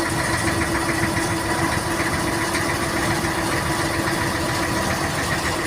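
A boat engine chugs steadily and loudly at sea off Alexandria, a constant mid-pitched idle-like throb with a knocking texture and no breaks, and nobody speaks.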